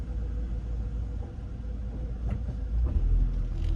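A gas truck driving past on a city avenue in Philadelphia, its low rumble steadily building and growing louder toward the end as it nears.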